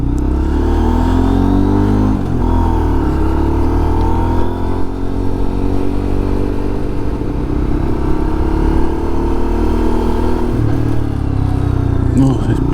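A Lexmoto LXR 125 motorcycle with a modified exhaust, its engine droning loud and close with rising and falling revs throughout, under wind and road noise while riding.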